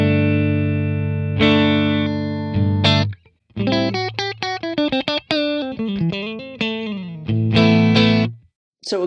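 An electric guitar runs through a Lekato TANK-G modeler with added gain, giving a driven tone with sustained chords and quick picked runs, close and loud, broken by short pauses.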